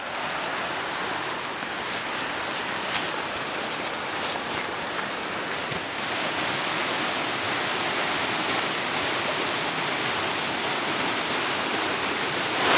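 The River Dane flows through a wooded valley in the Peak District, a steady broadband rush of water heard at moderate distance, fairly even throughout, with faint rustles and a few soft knocks nearby.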